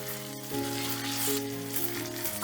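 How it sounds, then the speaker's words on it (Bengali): Ginger and green chillies sizzle and fry in a pan while being stirred, a steady close crackle with a few brief scraping touches and no talking. "আদা আর কাঁচা লঙ্কাটা একটুখানি নাড়াচাড়া করে দিয়ে দিচ্ছি"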